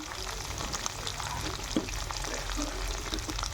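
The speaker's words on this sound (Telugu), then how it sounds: "కట్ చేసిన బెండకాయ ముక్కలు ఆయిల్లో అన్నీ కొద్దిగా వేసేసుకోవాలి." Cut okra pieces frying in hot oil, a steady close sizzle with light crackles and a soft stir partway through, no talking.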